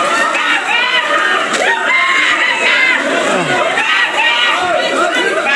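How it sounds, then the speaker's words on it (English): Women scream amid a panicked crowd after a bombing in a Gaza neighborhood, with loud, overlapping shrieks and shouting voices that fill the whole stretch. "Women are screaming."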